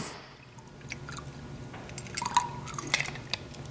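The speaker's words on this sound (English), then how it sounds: "Now we're going to pour it in our salted glass." A shaken margarita poured into a salted glass, faint trickles and drips that turn into a few sharper splashes and clinks near the end, close by over a quiet background.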